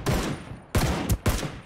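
Gunfire in the video game Ring of Elysium: a sustained burst of loud firing, a short pause, then two more bursts close up, with no speech over the shots.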